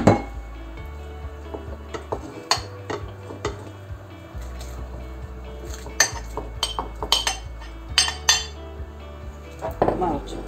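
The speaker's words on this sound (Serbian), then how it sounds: "Malo ćemo promešati." A spoon scrapes and clinks against a metal pot while lentil stew with chopped chicken drumstick meat is stirred, with irregular close knocks and scrapes over a low steady simmer, no talking.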